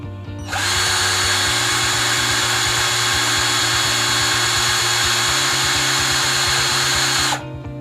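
A Mollar CDD 585 12V cordless drill in drilling mode runs steadily at its second speed setting, a loud continuous motor whine starting abruptly, holding even for about seven seconds, then cutting off, with no talk.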